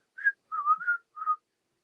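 Someone whistles a short tune clearly and alone, with one rising note followed by a longer wavering phrase and a final held note, separated by brief pauses.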